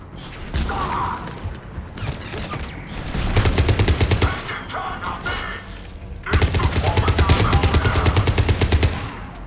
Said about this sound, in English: Commander, we're getting a lot of mortar fire.